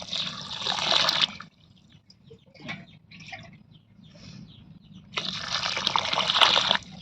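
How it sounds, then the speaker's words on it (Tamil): Water is poured into a cooking pot with rice for banana flower biryani in two close, gushing pours, with a quieter gap of small trickles and clinks between them. "ரெண்டு சொம்பு தண்ணி ஊற்றிக்கலாம்."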